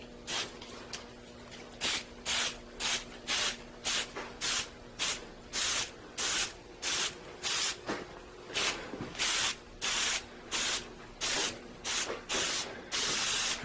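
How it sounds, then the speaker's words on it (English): Spray adhesive hissing from an aerosol can in roughly two dozen short, regular bursts, each about a third of a second, close and steady, used while making a DIY camping tarp; no talking. "Alright, so we're just going to simply spray."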